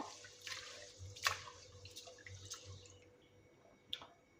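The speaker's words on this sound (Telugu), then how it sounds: "బియ్యాన్ని అయితే ఒక త్రీ టైమ్స్ అయితే బాగానైతే కడిగేసేయండి" Rice being rinsed by hand in water in a kitchen while preparing egg biryani, heard as soft, scattered drips and small splashes at low level, with a few brighter water ticks and no talking.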